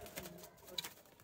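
Prized Rampuri and Ted breed pigeons cooing softly in a loft, faint and low under steady background noise, with one brief sharper sound near the end.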